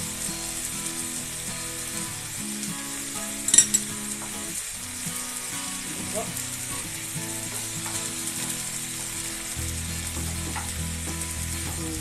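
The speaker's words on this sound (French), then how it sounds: "Il faut que les tomates concentrées soient bien mélangées avec les légumes." Tomato paste and vegetables are stirred in a sizzling pan for sautéed wheat, a steady frying hiss with soft scraping of a spoon and a brief clatter partway through.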